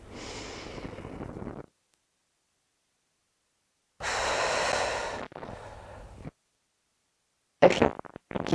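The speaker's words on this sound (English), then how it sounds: "Inhale. Exhale." Slow, deep breaths during a guided breathing exercise: a long, loud airy exhale, a pause of silence, then another drawn-out breath in two parts and a short sharp final breath, all close to the microphone.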